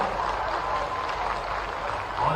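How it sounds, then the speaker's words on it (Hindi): Steady, dense applause fills a hall at a groundbreaking ceremony at the Kalidasa Academy in Ujjain, a continuous wash of many hands clapping at moderate volume without pause. "जोरदार तालियों के साथ"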